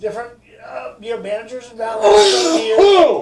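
A sharp sneeze bursts out near the end, following a person speaking.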